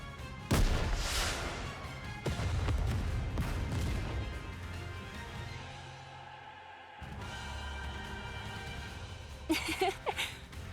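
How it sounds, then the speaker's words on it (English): A fiery explosion in the video game Goddess of Victory: Nikke erupts with a sharp blast, then rumbles into a long booming roar that breaks off abruptly, followed by further crackling impacts and bursts. "What an explosion."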